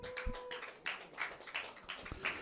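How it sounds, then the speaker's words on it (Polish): Scattered, thin clapping from a small audience at a musical birthday concert for Leszek Kopeć as guitarist Tomek Radziszewski is welcomed; quiet, uneven bursts of hand claps with gaps between them. "Brawa jakieś poproszę."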